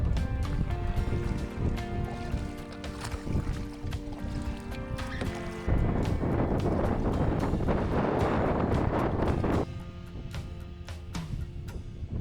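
Oars stroking water as a small boat is rowed against a side wind, with steady wind buffeting the microphone and splashing in a long rough stretch, no voices.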